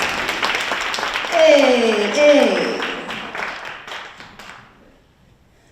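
Audience applause after a group sings a spiritual, rising to a burst of clapping that thins and fades to quiet, with a voice calling out briefly near the start.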